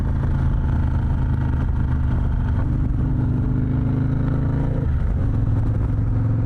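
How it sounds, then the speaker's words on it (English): A Harley-Davidson motorcycle engine rumbles steadily while riding, a loud, deep throbbing drone with a slight shift in pitch near the end, heard close with no talking. "I don't care what anybody says, these bikes just sound so good."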